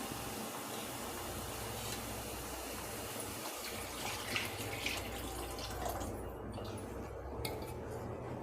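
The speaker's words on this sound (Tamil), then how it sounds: "இப்போ இதில் நம்ம புளியை கரைச்சி வடிகட்டி வச்சுருக்கோம்ல, இதில் ஊற்றிடலாம்." Strained tamarind water pours into a pot of banana flower kulambu, a continuous soft splashing trickle that runs for several seconds at a fairly quiet level with no voices.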